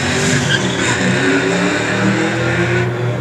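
Race cars roaring off at the start of a winner-take-all King of the Hill race at Delaware Speedway, a dense, steady wall of engine noise with revving and tire squeal, loud and continuous throughout.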